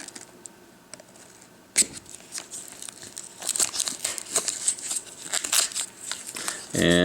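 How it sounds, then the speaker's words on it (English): Puzzle sticker packaging being opened, with sharp crinkling and crackling of plastic wrap close up, one loud rip followed by a stretch of rustling and handling. "Might as well open up the stickers here."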